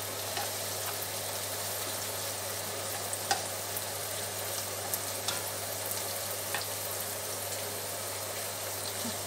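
Potatoes fry gently with onions and lardons in a pan, a soft, steady crackling sizzle heard close but quiet, with a few sharp ticks of stirring and a low constant hum beneath, no voices.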